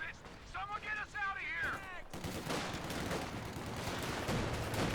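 Sustained, dense gunfire in a competitive WWII-style shooter match with Allies fighting, most likely a machine gun, roaring continuously from about two seconds on. Before it, a voice speaks briefly.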